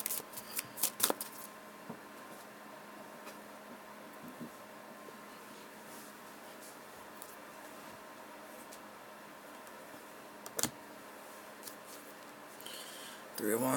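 Soft, steady rustle of tarot cards being shuffled, with a few sharper slaps and flicks near the start and around the middle.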